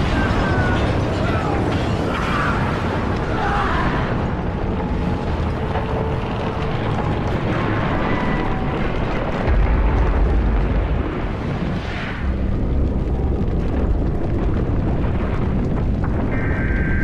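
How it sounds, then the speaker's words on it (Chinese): Explosions rumble as a crashing aircraft hits the ground in an animated scene, with dense, sustained booming and roaring noise and a few heavier low thumps partway through. "利用坠落的飞机制造了地面的爆炸"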